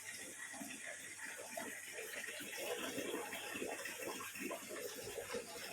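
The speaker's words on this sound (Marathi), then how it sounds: "झऱ्यातून पाणी भरलं आहे" Spring water running into a large metal pot, a faint continuous splashing and trickling, with quiet voices in the background.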